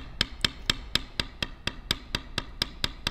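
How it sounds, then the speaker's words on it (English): Mallet strikes on a leather beveler while tooling a leather feather, a steady series of about twelve sharp, evenly spaced taps, close and clear with no talking. "So we're beveling away from the quill towards the outside"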